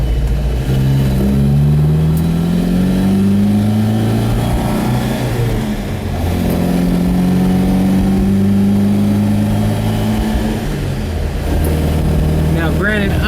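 1967 Volvo Amazon 122S station wagon with a B18 dual-carb engine accelerating under load, a loud continuous engine drone rising in pitch, dipping briefly at a gear change, then climbing again, heard from inside the car while someone speaks.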